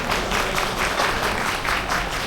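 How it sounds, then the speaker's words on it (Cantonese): Audience applause welcomes an honorary advisor at an automotive battery and tyre trade association's inauguration ceremony, a steady, dense clatter of many hands held throughout. "熱烈掌聲歡迎何義德教授 MH"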